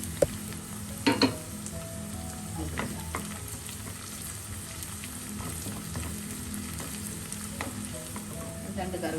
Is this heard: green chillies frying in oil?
yes